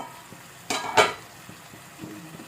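Chicken sukka stirred in a pan with two quick scraping strokes close by, each bringing a brief burst of sizzle, then a low, quiet simmer with faint clinks.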